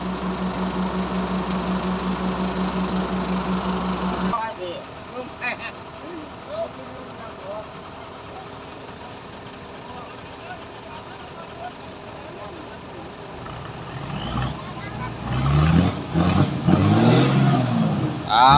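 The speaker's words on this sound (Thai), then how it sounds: "เอาละครับเครื่องติดแล้วครับ" A ten-wheel sugarcane truck engine runs, a steady diesel idle that stops abruptly, then low clatter and rumbling before the engine roars up again loud near the end.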